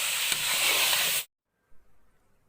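Pumpkin halwa with dry fruits being stirred in a pan, a steady sizzling scrape for about a second before cutting to near silence with faint rustles.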